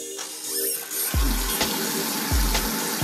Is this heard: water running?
yes